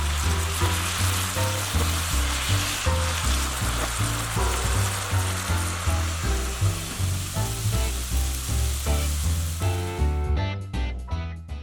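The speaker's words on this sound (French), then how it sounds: "je lave et j'émince les poireaux avant de les mettre à cuire au beurre dans une sauteuse" Sliced leeks cook in butter in a sauté pan, giving a loud, continuous sizzle with a steady pulsing rhythm that cuts off abruptly near the end.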